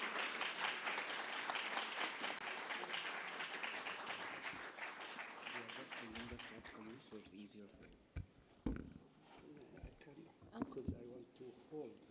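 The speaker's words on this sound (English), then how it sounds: "A big round of applause for Mr. Mohammad Jilwa" Audience at a poetry event, The Poetic Heart 2023, applauding a guest; dense clapping fades out midway, leaving a few scattered claps and someone speaking over the quieting room.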